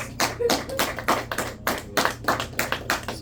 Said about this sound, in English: Shall we give Mike a round of applause?